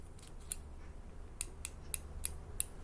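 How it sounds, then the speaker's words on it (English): A gunsmith torque wrench gives about six crisp, light clicks at uneven intervals over a quiet background, each one sharp and brief. "It has a little bit of a tactile click to it"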